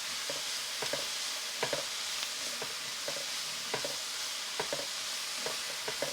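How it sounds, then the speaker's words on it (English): Vegetables for broccoli and cheese soup, salted in a pot, sauté with a steady soft sizzle, punctuated by periodic light scrapes and taps of a spoon stirring, with no talking. "So that's going to saute now for about 5 minutes and soften."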